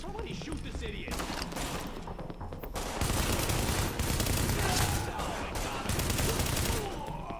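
Sustained heavy gunfire rattles through a firefight in the shooter game The Division, with dense rapid bursts and thuds continuing throughout, loud and close, while voices speak over the shooting.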